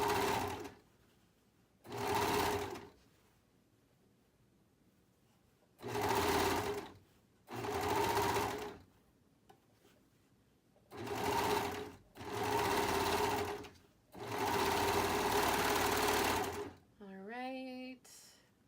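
A sewing machine runs in repeated bursts while stitching a hoodie cuff, with seven loud motor-driven runs of a second or two separated by quiet pauses and a short squeak at the end.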